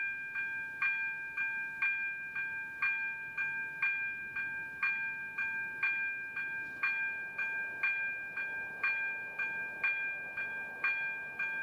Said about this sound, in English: we can actually hear the train just coming up this time around.